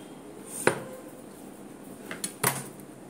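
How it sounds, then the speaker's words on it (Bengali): Meat being cut into pieces in a home kitchen, a few sharp isolated knife-on-board chops and metallic clinks, one strong hit followed by two closer knocks, quiet and sparse with near silence between. "চলো আমি প্রথমে মাংসটাকে টুকরো টুকরো করে নিই"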